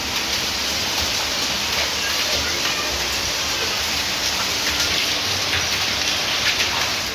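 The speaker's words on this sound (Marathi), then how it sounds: "नांदेड जिल्ह्यातील देगलूर तालुक्यामध्ये गारांसह पावसाला सुरुवात झाली आहे।" Unseasonal rain mixed with hailstones falling in Degloor taluka, Nanded district, Maharashtra, a steady close wash of downpour drumming on surfaces with faint scattered impacts, continuous and dense throughout.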